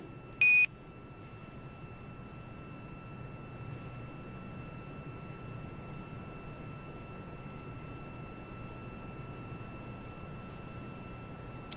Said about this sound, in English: those beeps are Quindar tones